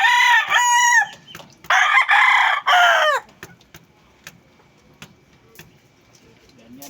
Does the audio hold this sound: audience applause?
no